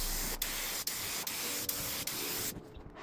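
Turbo spray paint hissing from an aerosol can onto a Honda Civic, a steady broadband spray in bursts broken by brief pauses about every half second, loud and close, then stopping near the end.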